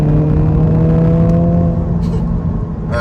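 A 2023 Honda Civic Si accelerating hard in third gear, a loud steady engine drone heard from inside the car that holds a strong even tone throughout, with a brief change near the end.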